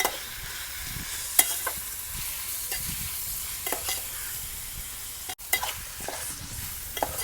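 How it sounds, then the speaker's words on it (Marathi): Dried dandi fish stir-frying in hot oil with browned onions in a pan, a steady loud sizzle with scraping spatula strokes and occasional sharp clinks, close up and without talk. "आपण खारे ॲड करू त्याच्यात दांडी तेलावर परतवून घेऊ आपण"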